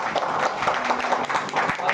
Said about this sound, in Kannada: ಒಂದ್ಸತಿ ಜೋರಾಗಿ ಚಪ್ಪಾಳೆ ತಟ್ಟನ